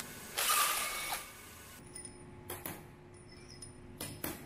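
Screws being removed from the bottom of a Pratissoli pump head with a hand tool: a short rasping whir, then a few faint metallic clicks and ratchet ticks, close up and quiet.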